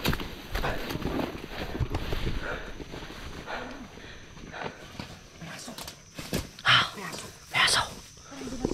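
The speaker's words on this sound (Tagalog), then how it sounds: "May aso." A dog barks and whimpers a few times amid clopping hoofbeats and footsteps, with people talking over the scene.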